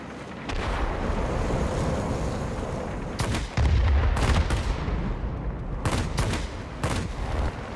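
Guns of a J8M fighter plane in World of Warplanes fire in loud, rapid bursts, sustained rattling volleys with short pauses between them over a constant engine drone.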